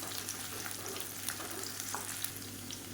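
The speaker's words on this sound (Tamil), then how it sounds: "இப்போ இது கூடவே ஒரு 20 வரமிளகா சேர்த்துக்கலாம்." Around twenty small dried red chillies fry in a pan for a chilli chutney, giving a continuous faint crackling sizzle with light scattered pops and no voices.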